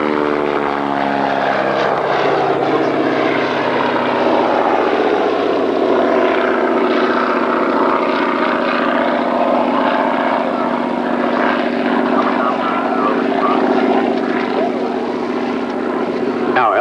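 An aerobatic propeller airplane drones loudly and steadily overhead at an air show, its engine pitch shifting slightly as it rolls and maneuvers, with no pauses.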